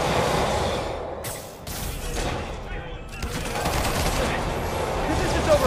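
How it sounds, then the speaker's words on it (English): Rapid bursts of gunfire fill a busy Spider-Man video game scene, with dense crackling volleys and whooshes running throughout under a steady mix of game sound. "Way too many bullets flying over there."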